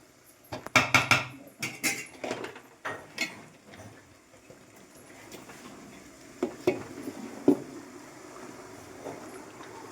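Boiled hulled wheat is tipped into a pot of cooked garlic and tomato, giving a burst of soft thuds, scrapes and clatter early on, then quieter stirring and occasional knocks.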